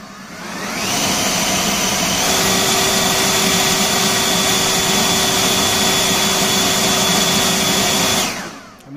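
A Greenworks 80V battery-powered blower spins up, holds a loud, steady whooshing whine with a sustained high tone for about seven seconds, then shuts off and winds down quickly. The sound is close, and no one talks.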